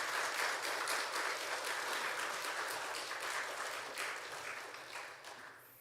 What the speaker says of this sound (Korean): 목사님 나오실 때 우리 따뜻한 환영의 마음을 담아서 박수로 맞이하도록 하겠습니다